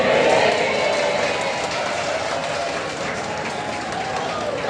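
Parish audience applauding during an information session about a mass with Pope Francis, a dense, even patter of many hands with some crowd murmur, sustained throughout.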